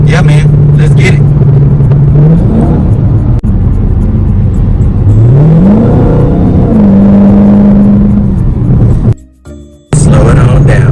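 A Dodge Hellcat Redeye accelerates hard at highway speed of around 70 mph, its engine roaring loud and close with pitch climbing in repeated surges before briefly cutting out near the end and returning.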